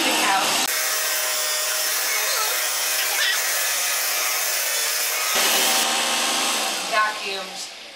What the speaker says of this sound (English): I'm going to turn and actually vacuum up to the couch